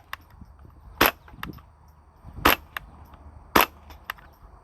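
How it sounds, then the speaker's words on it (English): A bullpup Ruger 10/22 with an integrally suppressed barrel fires three sharp, muffled shots spaced about a second and a half apart, with a few fainter clicks in between, in a quiet outdoor setting. "Bullpup Ruger 1022 with an integrally suppressed barrel. So incredibly quiet."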